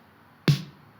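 One layered snare drum sample from an indie pop beat struck once, a fat, boxy hit with a bright crack, loud and close, then a short decaying tail over near silence.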